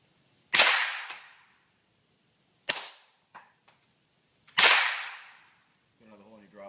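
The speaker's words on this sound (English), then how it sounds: "We're shooting it out of a buckmark threaded barrel with a Guardian 22 can, and we are running the can wet." A suppressed .22 Buckmark pistol with a threaded barrel, fired through a Guardian 22 suppressor run wet. Three sharp cracks sound up close, each separated by a couple of seconds, and a faint voice comes in after the last one.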